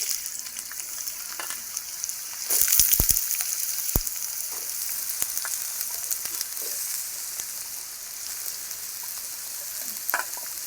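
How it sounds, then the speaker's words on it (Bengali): Potatoes and teasel gourd frying together in oil in a wok, a steady hiss of sizzling with occasional sharp crackles and stirring clatters, close and continuous with no voices. "আলু আর কাঁকরোলগুলো একসঙ্গে ধুয়ে নিয়েছি, একসঙ্গে ভেজে নেব"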